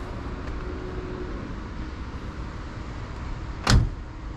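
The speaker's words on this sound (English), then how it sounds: "Nice, easy closing door." A single door of a 1972 Buick Gran Sport Stage 1 thumps shut near the end, a short solid knock over a steady low idle-like hum.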